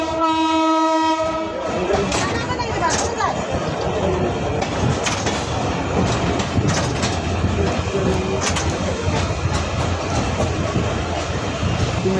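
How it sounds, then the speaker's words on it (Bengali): The Titumir Express pulls out of Nilphamari railway station: a loud sustained horn blast opens, then the rolling rumble and rhythmic clatter of the train cars continue steadily. "এক্সপ্রেস ট্রেনটি নীলফামারী রেলওয়ে স্টেশন ছেড়ে গেল"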